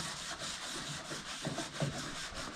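Final sanding of a wooden piece: soft, uneven rubbing strokes scratch back and forth at moderate volume, alone without speech.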